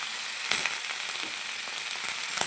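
Washed mixed vegetables hiss and crackle in oil tempered with panch phoron, a continuous close sizzle with a few louder bursts as they are stirred.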